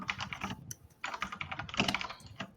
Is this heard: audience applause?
no